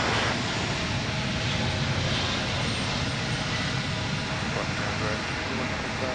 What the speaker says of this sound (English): There goes a flight headed to San Francisco.